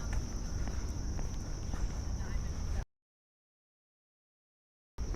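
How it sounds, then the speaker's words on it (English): Crickets chirp in Central Park, Manhattan, on a summer night, a steady high-pitched trill running under faint city background, footsteps and murmuring, then cut off by a stretch of silence. "All I hear right now is crickets and airplanes."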